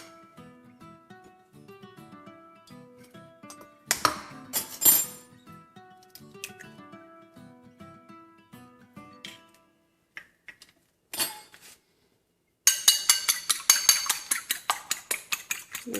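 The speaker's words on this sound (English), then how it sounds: "Then we're gonna beat one of the eggs." An egg beaten in a bowl, heard as quick rhythmic taps and clinks of a utensil against the dish, clearest as a fast regular run near the end after scattered lighter clicks and a brief pause.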